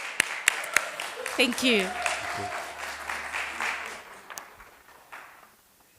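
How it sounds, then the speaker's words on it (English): A round of applause welcomes a boss at a cultural heritage and storytelling gathering, scattered claps rising then thinning and fading out while someone speaks briefly over them. "Let's welcome him with a round of applause"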